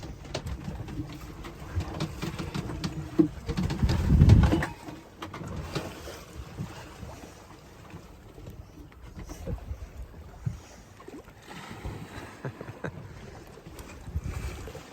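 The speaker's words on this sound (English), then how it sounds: "These waves are ridiculous" At sea with no wind and the sails down, waves roll and rock a small sailboat, giving a low, uneven sloshing and knocking with creaks from the hull. One heavier surge comes partway through, then quieter lapping continues.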